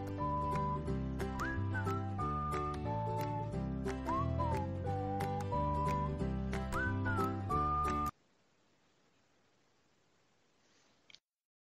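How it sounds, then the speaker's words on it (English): A clear whistled melody rises and falls over steady music for several seconds, then cuts off abruptly, leaving near silence. "I love the whistling that we have going on."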